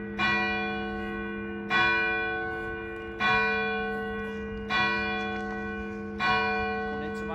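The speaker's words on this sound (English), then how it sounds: "waiting for any ringing or bells tolling or anything for the service" Church bells of St. Chad's, the Manchester Oratory, toll five times at a slow, steady pace before an 8 o'clock service, each loud, ringing stroke decaying into the next over a faint background hum.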